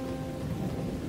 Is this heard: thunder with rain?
yes